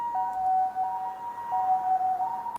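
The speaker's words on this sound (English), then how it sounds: "Suddenly, I thought I heard a siren in the distance." A wailing siren rises and falls in a steady two-tone pattern, heard alone at moderate volume with a faint background hum, in the visual novel game Memories Off.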